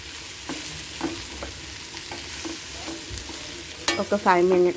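Ground dry coconut powder is stirred into a quick beans curry in a pan, with a low sizzle and soft scraping strokes, then louder clattering scrapes of the spoon near the end, close by and without talk.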